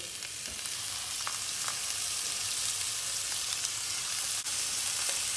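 Skin-side-down chicken pieces sizzle steadily in a hot pot for a rice pilaf, a continuous close hiss and crackle with occasional sharper pops and no talking.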